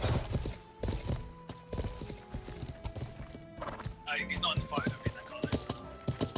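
Horse hooves clip-clop in Life is Feudal, a medieval video game, a steady loud trot with a neigh partway through, while people talk over it.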